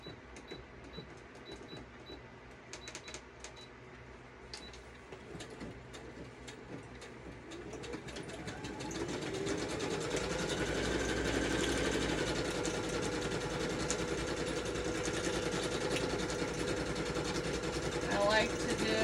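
A sewing machine stitches a decorative flower on paper tags for a vintage journal. Soft clicks and faint handling come first, then the machine runs in a steady, loud, rapid whir for the second half.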